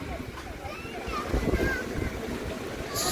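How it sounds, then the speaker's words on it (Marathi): Sea waves wash steadily against the rocks at the Malvan rock garden on a rainy October day, a low surging roar heard beneath a person talking. "समोरच समुद्र आहे आणि समुद्र ज्या पद्धतीने त्याच्या लाटा आहेत"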